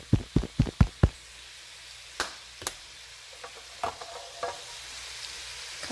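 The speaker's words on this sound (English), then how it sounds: "just a couple shakes of cumin" Cumin seasoning shaken from a container into a pressure cooker for ropa vieja: a quick burst of five sharp taps, then scattered softer knocks over a quiet background, no talking.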